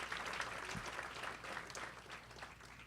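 Applause from a banquet audience for a sponsor at a South Florida Muslim coalition event, a dense, even patter of many clapping hands lasting a few seconds, fairly distant and without speech.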